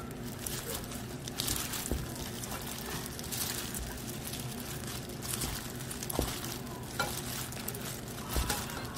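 Food being stirred in a sizzling pan, soft scraping and shuffling strokes over a low steady fry, fairly quiet and close with a few clicks of the utensil, no talk.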